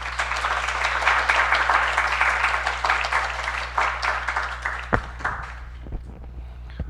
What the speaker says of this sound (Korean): 오늘 저희 한번 다 같이 박수로 이준호 교수님 모시도록 하겠습니다.